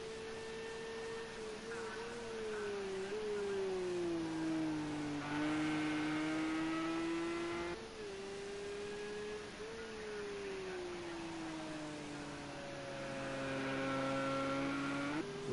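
A race car engine at the Hockenheim Classic circuit revs high and steady near 8,000 rpm, its whining pitch dipping and climbing through gear changes over a sustained roar.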